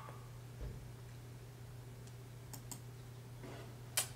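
A few sparse, faint mouse clicks while playing the online game Stick War, spaced irregularly over a low steady hum, with one sharper click near the end.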